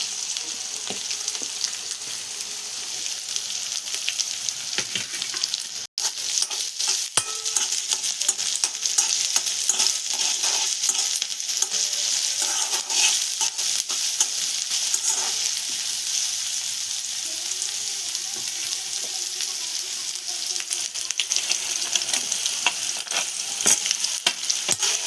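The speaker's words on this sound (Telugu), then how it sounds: "ఇప్పుడు పచ్చిమిరపకాయలు, ఇప్పుడు ఉల్లిపాయలు వేసుకుందాం." Green chilies and onions fry in a pan for mysore pappu aloo curry, giving a steady, close sizzle with occasional stirring clicks across the whole stretch and one brief dropout near the start.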